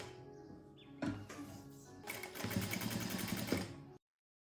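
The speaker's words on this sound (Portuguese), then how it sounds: "é só costurar as laterais." A home sewing machine stitches the sides of a shirt collar, with short bursts of whirring motor and needle clatter, building to a longer steady run before stopping abruptly.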